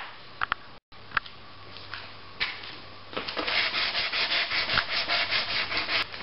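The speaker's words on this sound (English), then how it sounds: "I've got this one side sanded up pretty good" A wooden guitar rack piece is sanded by hand, with soft scattered scrapes at first and then a steady, close, rhythmic rubbing that grows louder and continues without talk.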